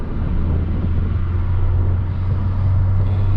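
A Honda Civic Type R FK8 with manual transmission drones steadily from the cabin, a low continuous engine rumble with no obvious break or rev change, loud and alone with no voices.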